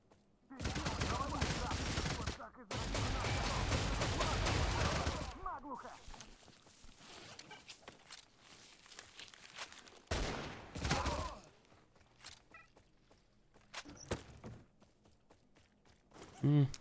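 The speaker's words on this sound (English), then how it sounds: "I am using the incendiary rounds for the M16." M16A3 rifle firing incendiary rounds in a video game, two long loud bursts of automatic fire near the start, then a shorter burst later and a few isolated shots amid quieter footsteps.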